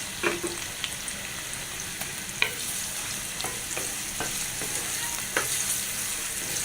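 Two onions fry lightly in a pan for a dried-fish and taro stolon dish, a steady soft sizzle broken by repeated clicks and scrapes of stirring, close and even, with no speech.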